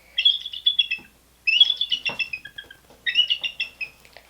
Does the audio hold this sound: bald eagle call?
yes